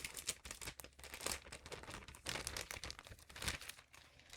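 A plastic bag crinkles as art prints are pulled out of it, a close, busy run of crackles and rustles lasting the whole moment with no talk.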